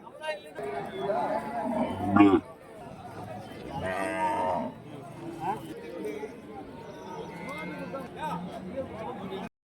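Cattle moo at a busy weekly livestock market in Vaniyambadi, Tamil Nadu, where native cows and heifer calves are traded, with several lowing calls rising over steady crowd chatter and people talking nearby.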